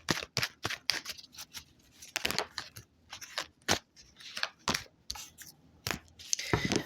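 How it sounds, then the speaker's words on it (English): Brisk, sharp riffling bursts of tarot cards being shuffled, repeated in quick irregular rhythm, close and fairly loud with no talking. "So I will shuffle the cards"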